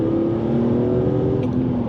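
Car engine pulling steadily while driving, a close, loud, sustained droning tone rising slightly in pitch over two seconds.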